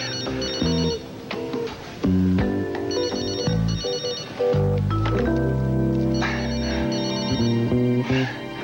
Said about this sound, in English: What is the point of having a cell phone if you don't answer it when it rings?